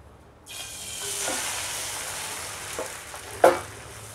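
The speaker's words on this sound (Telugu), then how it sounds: "ఇంకొక 2 eggsతో ఇంకొక ఆమ్లెట్ వేసుకోవాలి" Two eggs frying as an omelette in a pan, a steady close sizzle that starts abruptly and runs throughout, with a sharper crackle near the end and no talking.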